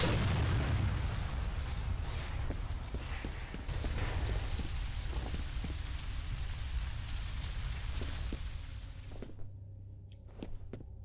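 Exploding barrels in the first-person shooter F.E.A.R. give a heavy, rumbling blast followed by crackling debris and scattered pops, loud at first and then settling into a steady roar before a sudden cutoff.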